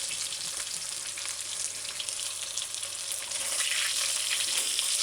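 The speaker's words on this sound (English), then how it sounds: "since we start frying these chicken pieces" Chicken patties fry in a pan on a stove set to high, giving a steady, dense sizzle that swells a little louder toward the end, with no voices.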